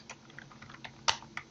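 Keys on a computer keyboard are tapped while editing a file in a text editor, a short run of light, uneven clicks with one sharper keystroke, close and alone.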